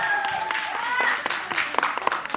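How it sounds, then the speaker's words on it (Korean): Audience applause at a Korean dubbing premiere stage greeting for the animated film Mufasa: The Lion King, a dense spatter of claps under crowd noise and overlapping voices, with a few sharper individual claps standing out near the end. "박수 부탁드리겠습니다."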